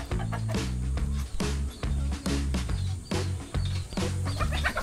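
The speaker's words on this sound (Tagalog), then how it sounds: "Uy, manok." A chicken clucks in short, repeated bursts, loud and close, with a low rumble underneath.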